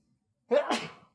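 A man gives a single sharp sneeze outdoors during a southern Utah exploring trip, a loud burst of breath that fades into a short trailing exhale in a quiet setting.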